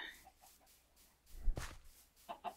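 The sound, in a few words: loose chicken clucking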